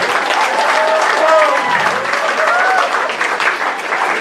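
Audience applause with dense, loud clapping that holds steady throughout while a voice talks over it.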